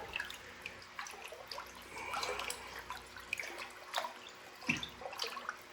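Water solution stirred after a pH adjuster is added, soft faint sloshing and drips with small clinks in an indoor hydroponic setup, no talking.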